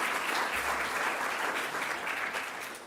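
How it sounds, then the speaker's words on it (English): An audience at a climate change conference session applauds the panellists, a loud, full round of clapping from many hands that holds steady and then begins to taper off toward the end. "You've actually given these guys some lovely applause."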